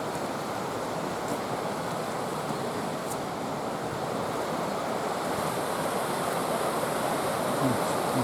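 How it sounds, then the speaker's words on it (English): A flooded river rushes beneath a bridge in a constant, heavy, broadband roar, steady and close throughout, with faint wind buffeting the microphone now and then. "The river's quite flooded."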